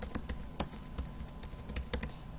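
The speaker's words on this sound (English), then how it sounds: "So you can type your solution here," Keys clatter on a computer keyboard in quick, irregular taps as someone types, close up, with no voices.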